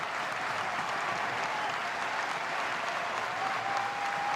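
A baseball stadium crowd in Louisville rises and applauds at an NCAA Championship super regional game against Miami, producing loud, sustained clapping and cheering that fills the air without a break.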